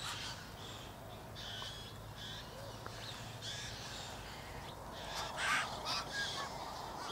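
Choughs eating scattered bird seed give harsh, crow-like calls in short bursts at moderate distance, a few louder calls near the end over a quiet outdoor background.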